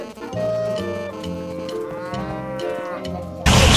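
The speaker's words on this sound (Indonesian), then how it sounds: "Tu lembu ke kerbau?" A cow moos loudly and close in a long, drawn-out low call, sustained for several seconds before an abrupt burst of noise at the end.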